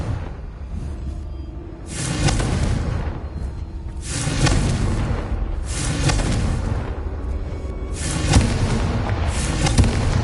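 Confringo spell explosions in the video game Hogwarts Legacy, a string of heavy booming blasts roughly every two seconds, each bursting into crackling noise over a deep rumbling bed.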